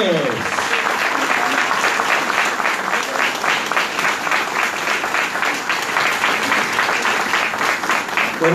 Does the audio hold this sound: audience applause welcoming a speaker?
yes